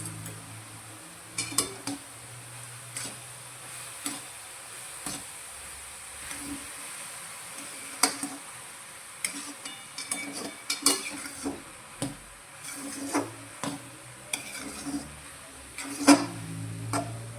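Carrot halwa is stirred in a pan with a spoon, giving irregular scrapes and light clinks of metal against the pan, soft and close, with a faint sizzle underneath and no talking.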